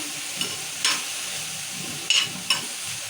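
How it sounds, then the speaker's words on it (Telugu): Onions and tomatoes frying in a pan for an egg curry gravy, a low steady sizzle broken by a few sharp stirring scrapes. "టమాటాలు కూడా కొంచెంసేపు వేగాలి"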